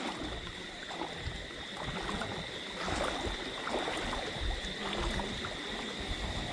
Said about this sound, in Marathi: आता एक छोटीशी वॉटर क्रॉसिंग करायची आपल्याला.